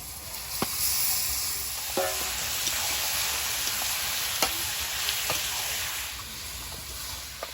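Chicken pieces sizzle and fry in spices in a home kitchen pan, with a steady, loud hiss. Sharp clicks and scrapes of stirring break in now and then.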